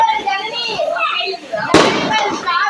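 A single firecracker bursts with a sharp, loud crack that decays quickly, set against steady chatter and children's voices close by.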